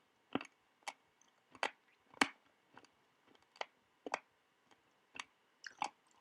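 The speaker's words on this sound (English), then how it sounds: "I apologise for any crunching that you may hear." Close, crisp crunching of an ice lolly, sharp separate bites repeating at irregular intervals about every half second over several seconds, with no talking.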